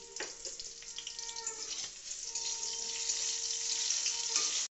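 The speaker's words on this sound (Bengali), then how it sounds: "আলুটাকে নুন হলুদ দিয়ে পরিমাণ মতন নুন হলুদ দিয়ে ভাজা হচ্ছে" Potatoes seasoned with salt and turmeric fry in oil, giving a steady, fairly quiet sizzle that holds for several seconds and stops abruptly, with a faint tonal hum underneath.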